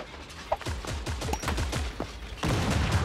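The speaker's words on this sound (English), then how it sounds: "the gun fires" Gunfire in the video game Creative Destruction, a rapid fusillade of sharp shots fired in quick succession. The shots sound close and fairly loud, with a denser, noisier burst near the end.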